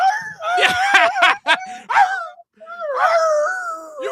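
A dog yelps and whimpers in a close, loud sound effect, a burst of rapid high cries followed by a longer drawn-out whine.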